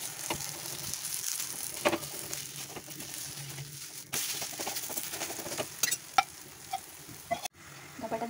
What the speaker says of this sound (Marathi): तव्यावर धपाट्याला एका बाजूने छान घेऊ द्या